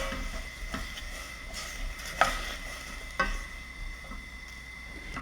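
Burdock, lotus root, sweet potato and carrot simmering in braising sauce in a pot: a steady soft bubbling hiss throughout, broken by a couple of faint utensil clicks.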